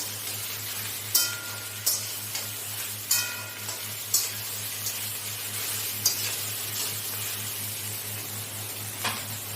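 Okra and fish roe frying with turmeric powder in a pan, a continuous close sizzle under a low steady hum, with sharp spatula scrapes and knocks every second or so and no talking.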